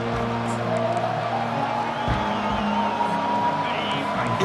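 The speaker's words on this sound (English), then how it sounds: "It's early, but this crowd is fired up. Listen to this noise here." Stadium crowd roaring and cheering at a college football game in College Football 25, a dense, steady wall of noise with whistles and shouts rising through it, continuing under a commentator's voice.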